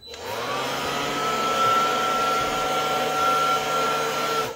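A small battery-powered DeWalt blower, fitted with the small battery that is running weak, runs steadily with a close, loud, even whine while clearing the floor of a tiny house.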